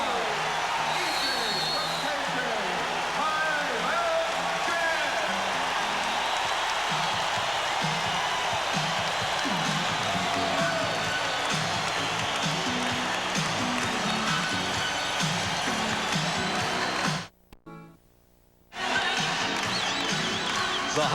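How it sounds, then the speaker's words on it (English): Basketball arena crowd roars after a Phoenix Suns shot in a playoff game against the Jazz, a broad sustained cheer under a commentator's voice, cut briefly by a short dropout near the end. "That explodes the crowd."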